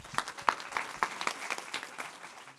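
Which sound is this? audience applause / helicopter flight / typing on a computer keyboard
audience applause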